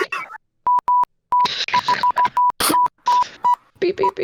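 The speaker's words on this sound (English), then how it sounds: "Beep beep beep. Anybody know Morse code?" Electronic beeps like Morse code, a run of short and longer single-pitched tones in an irregular on-off pattern, broken up by bursts of loud talking and noise between them.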